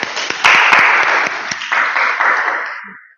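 Applause from a classroom group of students, a dense burst of clapping that holds steady for about three seconds, then thins and fades out.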